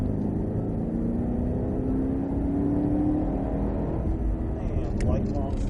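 Cadillac CTS-V engine pulling on the Sonoma race track, a steady droning growl with a slowly rising tone as the throttle opens, heard from inside the car, and a brief sharper rasp near the end.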